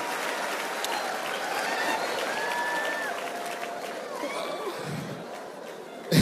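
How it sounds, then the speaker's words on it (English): Audience applause at a comedy-style preaching event, steady clapping and crowd murmur throughout, moderately loud, with a brief louder burst near the end. "So I want to clap for my mama,"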